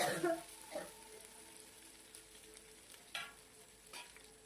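Onions and spices frying in a pan for chicken biryani, a soft steady sizzle with occasional scraping stirs and a few sharper clinks, quiet and close.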